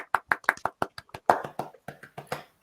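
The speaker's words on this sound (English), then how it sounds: "A big round of applause for sentences." A small audience at a Monday night improv comedy show claps in a sparse, uneven patter of separate hand claps, close and brief with no voices over it.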